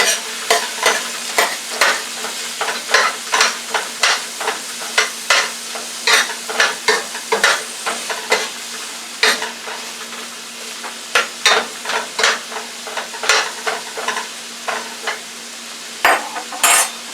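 Peppers and onions sizzle steadily in a hot frying pan while a utensil scrapes and stirs in quick, repeated strokes, close by.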